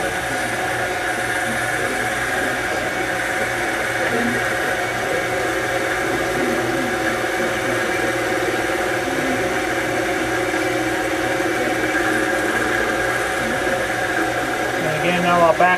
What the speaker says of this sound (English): We'll make this sort of like a brake rotor. We'll take a small cut off this face.